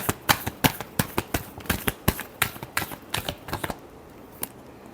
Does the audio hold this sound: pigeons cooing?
no